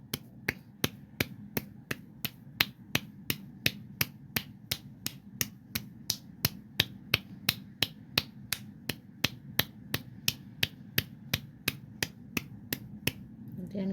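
Hands patting skin during an acupressure meridian massage, a steady run of sharp slaps at a brisk, even rhythm of about two per second, close and clear over faint background hum, no talking.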